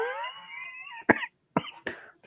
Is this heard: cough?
yes